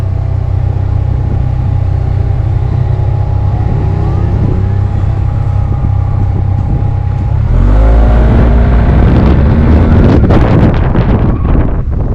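Engine roar builds sharply as a Yamaha motorcycle accelerates during a test ride, the steady cruising hum giving way to a louder rising rev with heavy wind rush over the microphone.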